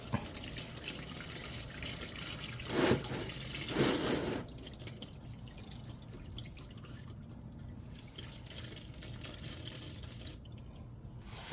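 Fluid draining from a Ford Taurus, a soft steady trickle with scattered drips, with a couple of louder splashy bursts early on, then quieter dribbling under faint background noise.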